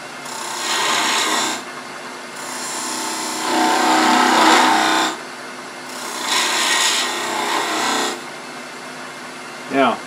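A skew chisel cuts a V into wood turning on a lathe, making repeated rasping, scraping passes in a steady back-and-forth rhythm. The sound is loud and close, and no speech is heard.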